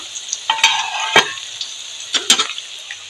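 Cumin seeds and dried red chilies sizzle in hot oil as a tempering for masoor dal, a steady frying hiss broken by several sharp spattering bursts and stirring scrapes, close and loud.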